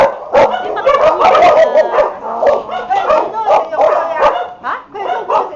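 Several dogs bark, yip and whimper close by in rapid, overlapping bursts, loud and continuous for several seconds, with a howl mixed in among them.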